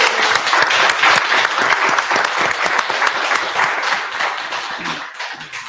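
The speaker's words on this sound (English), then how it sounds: "Je pense qu'il mérite une bonne main d'applaudissement." A live podcast audience in a room gives its guests a warm round of applause. The dense, continuous clapping stays loud and then tapers slightly toward the end.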